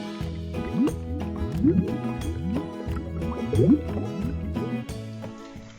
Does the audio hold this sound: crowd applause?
no